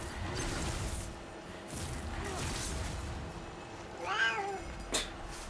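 A domestic cat meows once, a rising and falling cry near the end, with a short faint sound after it, over a steady hum of room noise.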